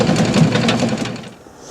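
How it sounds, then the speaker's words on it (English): Cabbage shredding machine for sauerkraut making, running with a rapid rattling mechanical chatter close by, then winding down and fading near the end. "with this machine, you don't have to cut your cabbage. You just go straight in with the whole thing"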